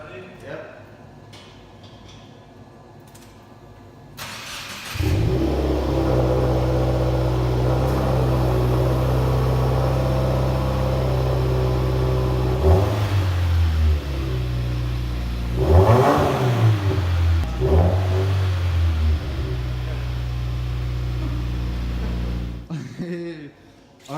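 2018 Subaru WRX fitted with a Nameless cat-back exhaust, idling with a deep rumble, then droning and revving as it pulls away and accelerates, heard from inside the car with people talking.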